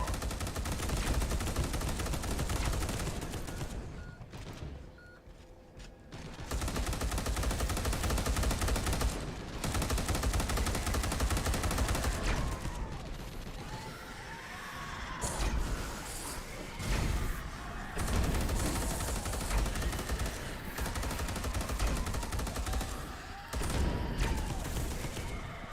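Sustained bursts of gunfire from a squad firing on enemies in Space Hulk: Deathwing, dense rapid shots continuing across most of the stretch with brief lulls between volleys.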